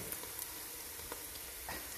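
Food frying in a pan for a chicken and okra curry: a steady, close sizzle with small crackling pops and no talk.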